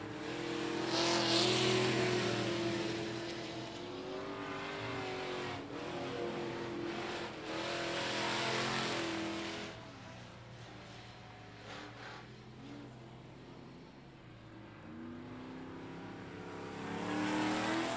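Race cars circle the oval at I-37 Speedway on the closing laps of a regular race program, engines droning loud and continuous with rising and falling swells as the cars pass, with no talk.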